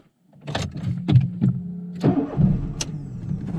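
A Volkswagen Gol's engine cranks with several uneven starter bursts, then catches and settles into a close, steady idle.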